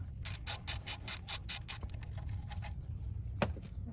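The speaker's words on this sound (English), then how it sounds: "Might have to switch to a ratchet and spin them out a little more." A hand ratchet spins out front brake caliper bolts on a Toyota solid front axle, giving a fast run of close, crisp clicks followed by a looser, slower rattle of mechanism noise.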